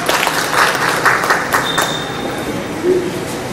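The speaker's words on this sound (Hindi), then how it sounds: "उनके लिए भी एक बार जोरदार तालियां।" Loud applause from an audience at a Delhi RWA federation program, a dense crackle of many clapping hands that holds steady for several seconds, with brief voices faintly mixed in.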